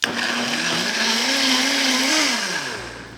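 A blender runs loudly and continuously, its motor pitch wavering and dropping slightly as the contents churn, then winding down.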